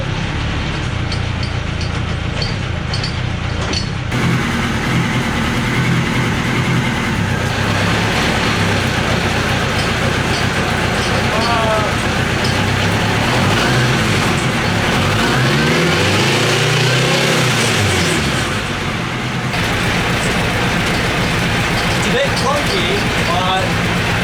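A mini trophy truck engine at its first start-up idles and revs steadily and loudly throughout, with drivetrain whine and clunks as four-wheel drive engages, and people talking over it.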